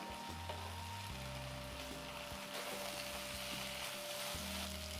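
Okra frying in mustard oil over a low flame gives a steady, soft sizzle with occasional stirring, heard close and alone under a faint low tonal background.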